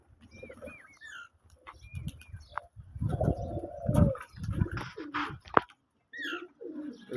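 Pigeons bathing on a spring morning coo in a series of soft, throaty calls, near and moderately loud, mixed with scattered chirps and splashy rustling in between.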